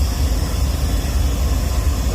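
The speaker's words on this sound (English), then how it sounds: "That was them letting the air out of the brakes, the train line brake" Air hissing steadily out of a freight train's brake line as the crew releases the train line brakes, a continuous broadband rush of air with a low rumble beneath, constant and fairly loud throughout.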